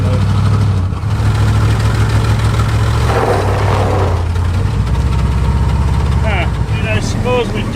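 An old big block Chrysler engine, unrun for 35 years, chugging and idling loud and close with a rough, uneven throb, while people talk over it.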